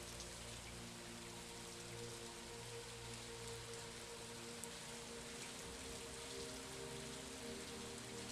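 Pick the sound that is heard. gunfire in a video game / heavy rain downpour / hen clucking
heavy rain downpour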